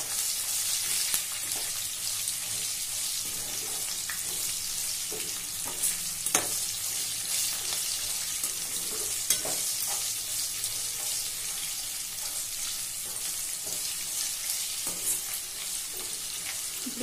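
Onions fry in a pan with a spoonful of salt for broken wheat vegetable biryani, a steady close sizzle with intermittent scraping stirs and clinks throughout.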